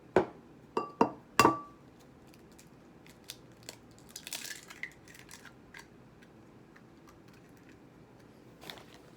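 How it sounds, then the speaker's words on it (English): Two eggs are cracked for breakfast: a cluster of sharp, close taps of shell against a hard edge, then faint crackles and soft drips, and one last light tap near the end. "And then when we have 2 eggs, we just crack them."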